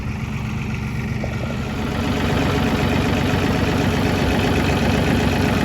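A tractor engine idles steadily at a farm during compost-pile work, a constant low mechanical rumble that grows a little louder partway through and carries on without any voices.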